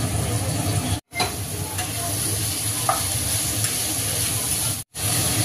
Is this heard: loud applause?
no